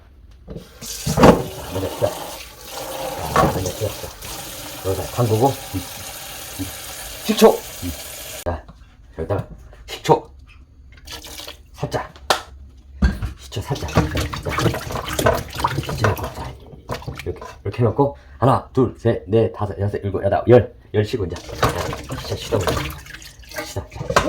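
Cucumbers, freshly picked with flowers still attached, rinsed under a running kitchen tap, with water gushing and splashing in bursts alongside handling clatter, loud and close, while a voice speaks at moments.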